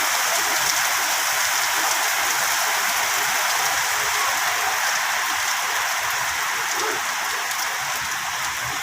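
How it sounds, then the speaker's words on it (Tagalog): Heavy rain pours down steadily during an early-morning marathon in Cagayan de Oro, a dense, even hiss of drops on surfaces with no pauses and no voices. "Kusog kay nga ulan."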